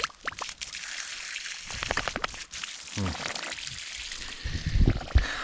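Water gurgles and trickles while a water line is hooked up at a cabin, an uneven sloshing flow with dribbles and splashes, close by and fairly loud.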